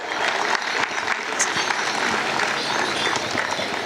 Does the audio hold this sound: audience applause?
yes